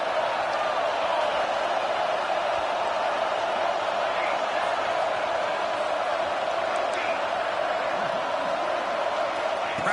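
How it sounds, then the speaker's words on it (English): A large college football stadium crowd roars in a steady, loud wall of noise during a fourth-down play between Tennessee and Florida State. "Crowd trying to help out here on 4th down."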